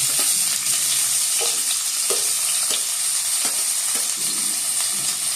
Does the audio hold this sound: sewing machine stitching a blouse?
no